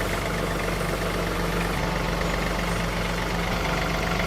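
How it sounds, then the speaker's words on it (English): A tractor engine idles steadily and loudly up close with a deep, constant rumble while backing up to hook a trailer, with no break in the drone. "I'm gonna back up, and then you guys help me hook the trailer up to the tractor"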